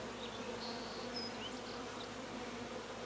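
Honeybees hum steadily at a beehive, a dense, close, continuous buzz of many insects with a few individual bees whining past, no voices over it.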